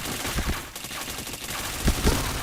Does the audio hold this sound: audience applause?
no